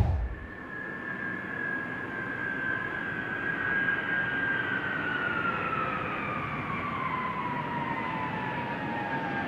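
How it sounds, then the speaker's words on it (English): A jet aircraft flying in to land roars steadily overhead with a whining tone that slowly drops in pitch as it passes, loud and continuous throughout. "We're bringing this airplane here. It's its last flight."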